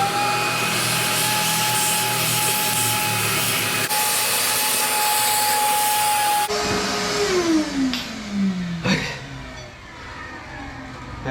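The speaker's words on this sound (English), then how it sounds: "There is gunk up in these intake runners, so I need to vacuum those out." A shop vacuum sucks gunk out of the intake runners of a Ford flathead engine, a loud steady whine shifting pitch as the nozzle moves, with scraping, knocks and dropping pitch as airflow changes.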